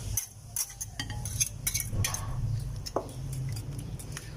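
Eggs being whisked in a bowl for a Spanish omelette with cheese, a run of quick light clinks and taps of utensil against the bowl, close and fairly soft, with no talk.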